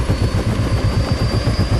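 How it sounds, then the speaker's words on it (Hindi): A helicopter serving as an air ambulance in the film Animal thumps with a steady, rhythmic rotor chop over a dense engine roar, loud and continuous. "उस डायलॉग के बाद सिर्फ यहाँ हेलीकॉप्टर की साउंड को सुनाना"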